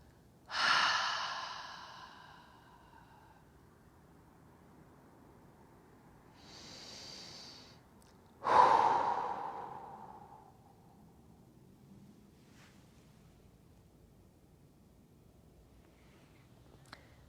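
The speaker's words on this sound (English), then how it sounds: "Nice deep breathing." Slow, deep breathing during a gentle yin yoga session: three long, airy breaths, close and soft, each fading out gradually, with quiet pauses between and no talking.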